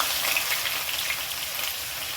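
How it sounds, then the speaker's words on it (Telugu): Onions fry in oil in a kadai, a dense, continuous sizzle at close range with no voices. "కొంచెం నూనె పోసుకున్నాం దాంట్లోని ఉల్లిపాయలు వేయించుకున్నాం"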